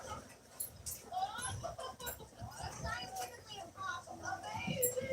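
A puppy is outside at night, with scattered yips and whimpers rising over a voice that talks throughout and other background voices.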